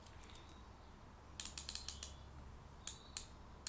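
Crisp little clicks from the turning bezel of a Geckota G-02 Gen 2 watch, coming in quick clusters of five or six close up, then a few spaced single clicks over a quiet background.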